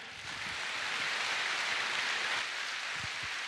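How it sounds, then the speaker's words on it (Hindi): A crowd at a Delhi success seminar claps loudly and continuously, a thick wash of many hands that swells in quickly and holds steady, with no talk over it. "एक बार अपने लिए जोरदार तालियां बजाएं।"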